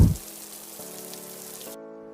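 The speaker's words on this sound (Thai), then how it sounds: "วันนี้อากาศไม่ดีฝนตกทั้งวัน" Rain falling in a steady, soft patter that runs evenly throughout, with low sustained music tones underneath and a short thump at the start.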